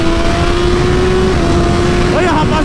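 A Kawasaki Ninja 400 motorcycle engine runs loud and steady with a droning tone, then rises briefly in a short rev near the end.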